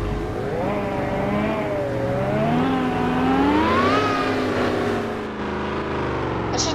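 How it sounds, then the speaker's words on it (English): A Dodge Hellcat in the Driving Empire game revs and accelerates, its engine note rising in pitch through shifts and then easing off, loud and close with no speech. "I also forgot this car is a Hellcat."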